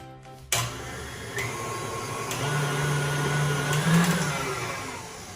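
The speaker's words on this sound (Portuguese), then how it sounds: "15 minutos na batedeira em velocidade alta." An electric stand mixer beats cake batter at high speed, switching on abruptly and holding a steady, loud motor whine and whir close by for several seconds with no voices.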